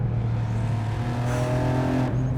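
Big-turbo BMW E46 M3 with a straight pipe and open wastegate, its engine droning loud and close with a steady, harmonic-rich tone and a brief hiss near the end.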